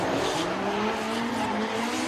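Drift cars sliding through a chicane at Sugo during a Formula Drift Japan event, engines revving with rising and falling pitch and tires squealing over a steady roar, fairly loud.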